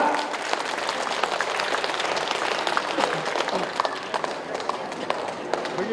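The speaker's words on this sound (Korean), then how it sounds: "여러분 힘찬 박수가 필요합니다." A crowd at an open-air music show in a traditional market claps vigorously for a Jeolla provincial intangible-heritage folk performance troupe, continuous applause with scattered sharper claps throughout.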